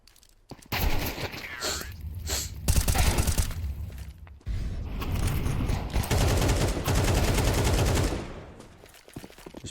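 Rapid pistol gunfire from a competitive video game match crackles in dense bursts, with a brief pause and then another sustained volley of shots, loud and close, then trailing off.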